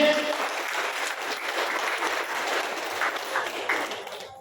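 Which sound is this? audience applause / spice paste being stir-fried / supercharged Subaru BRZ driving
audience applause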